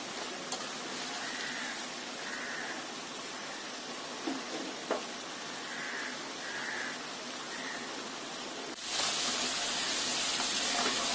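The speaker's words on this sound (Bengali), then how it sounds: "আলুগুলি ভাজা হয়ে গেছে।" Potatoes fry in hot oil in a pan on a stove, a steady soft sizzle and hiss running throughout, with a few faint clinks and a louder burst of sizzling near the end.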